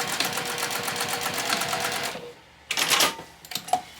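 Sewing machine stitching back and forth to baste fabric in place, a steady close mechanical whir for about two seconds, then a pause followed by short bursts of handling and clicks.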